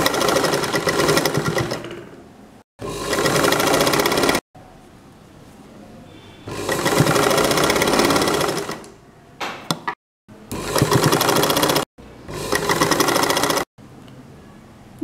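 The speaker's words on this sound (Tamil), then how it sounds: "இப்படி தைக்கும்போது துணி மடங்கியிருந்து அதை நிமித்து விட்டு தைக்கணும்." Sewing machine stitching a double-layer cloth face mask, running in loud bursts of about one to two seconds separated by short pauses and brief mechanical clicks.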